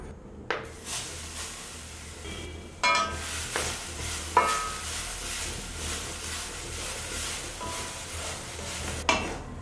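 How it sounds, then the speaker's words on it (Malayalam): Coconut pieces roast in a pan for a tapioca biryani, giving a soft continuous sizzle broken by a few scraping stirs and light clinks of a utensil against the pan, heard close and with no talking. "അതിന് വേണ്ടിയിട്ടുള്ള ഒരു മുറി തേങ്ങയാണ് നമ്മൾ ഇപ്പോൾ വറുത്തുകൊണ്ടിരിക്കുന്നത്"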